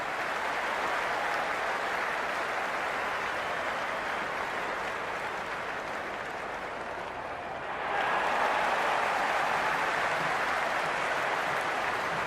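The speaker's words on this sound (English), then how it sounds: "The crowd is electric right now." A Cricket 26 video game stadium crowd cheering in a steady, dense roar that holds loud throughout, dips slightly, then swells louder again partway through, with no voices standing out.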